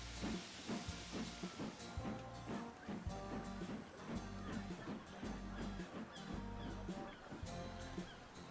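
A steam locomotive called Windsor rounds a curve hauling a fuel train: faint, rhythmic chuffing and hiss that repeats at a steady beat as it passes, with a low, even rumble beneath.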